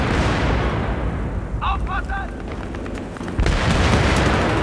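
Booming grenade blast in Battlefield 3 gameplay, a loud low rumble at the start that trails off, then a second heavy burst near the end, with players talking throughout.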